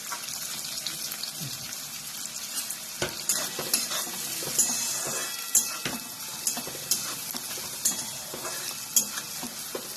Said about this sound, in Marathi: कांदा एक 2-3 मिनिटं भाजायचा